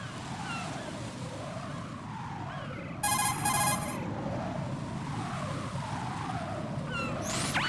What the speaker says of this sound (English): What do I need a cell phone for?